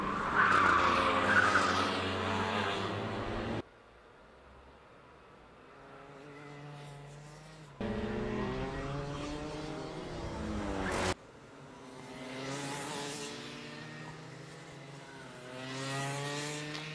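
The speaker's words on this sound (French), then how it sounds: "on le voit chasser de l'arrière dans ce virage de sortie du sous-bois" A race car's rear slides through a corner exiting a wooded section of a demanding circuit, with engines revving and tires scrubbing in several passes that rise and fade with abrupt shifts in level.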